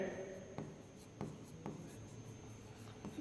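Chalk or marker writing on a board during a Class 12 physics lesson on electric fields, with soft faint scratching and a few light taps, close and quiet.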